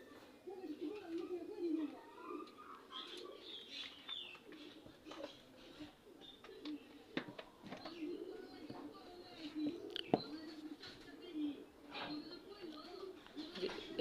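Pigeon chicks, young racing (baji) and local pigeons kept in groups, coo softly and repeatedly, faint and close, while someone talks over them.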